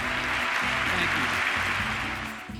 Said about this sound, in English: President Clinton's 2000 address wins for the most applause breaks, 128 to be exact.